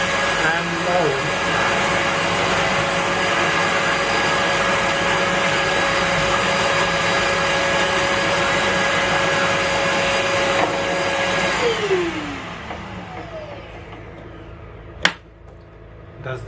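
A Trend T35A dust extractor running loud and steady with a constant whining motor drone, then spinning down as it is switched off, followed by a sharp click.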